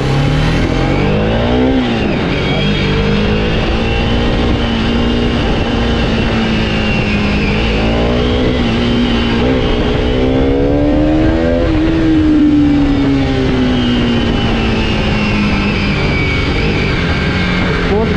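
An RS 200 motorcycle engine roars up close while riding, with repeated rising revs as it accelerates through the gears over a steady loud rumble and wind noise.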